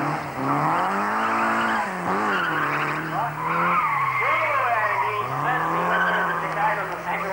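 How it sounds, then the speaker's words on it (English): A 2-litre Mark 1 Ford Escort races up a hill climb course, its engine note rising and falling steadily through gear changes with tyre squeal, loud and continuous while a commentator talks over it. "It's a 2-litre motor in this little Escort, Mark 1."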